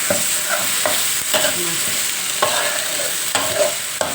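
Curry paste stir-frying with grilled stingray in a pan, a steady close sizzle broken by repeated scraping strokes of a utensil at an uneven rhythm, with no talk.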